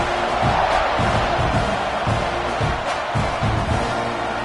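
A football stadium crowd cheers loudly and steadily during a kickoff, with a dense roar and repeated swells of shouting.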